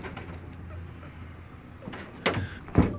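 Central locking on a Ford Transit Custom van, worked by the remote key, gives two short mechanical clunks near the end, the second one louder, over low background hum.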